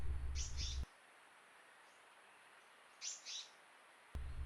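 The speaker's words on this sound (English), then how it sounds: "you can hear the pitters calling in the background on this clip" Faint, distant blue-winged pitta calls in a quiet, wet forest, a pair of short whistled notes heard twice, with brief bursts of louder noise at the start and end.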